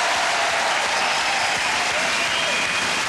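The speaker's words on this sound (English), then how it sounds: "Give them both a big round of applause," Loud, dense studio audience applause from a live TV game show, a steady wash of many hands clapping that holds at full strength for the whole three seconds with no break and no voices on top.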